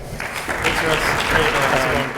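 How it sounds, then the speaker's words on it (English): Steady applause from a cybersecurity conference audience, a continuous wash of many hands clapping at moderate loudness. "Please, warm round of applause for Ron Bushar."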